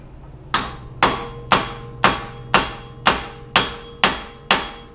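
A hammer taps a Jeep Wrangler JK hub bolt in nine sharp, evenly spaced metallic strikes about half a second apart, each ringing briefly before the next, with no talk.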